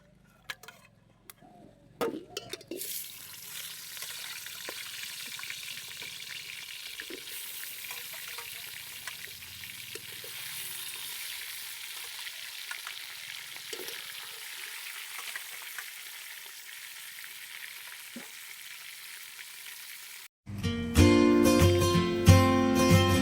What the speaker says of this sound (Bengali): তেলটা গরম হয়েছে, আমি একটু লবণ ছিটিয়ে দিচ্ছি। এখন আমি মাছের মাথাটা ভেজে নেব।